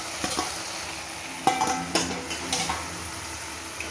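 Chopped potatoes being stirred into sautéed onion and tomato in a pan for poori masala, a soft sizzle under several scraping, clinking strokes of a spoon against the pan, close and moderate in level.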